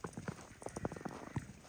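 Horse hooves clip-clopping in a quick, uneven run of close, soft thuds, with no one speaking over them.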